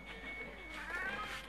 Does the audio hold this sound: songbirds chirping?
no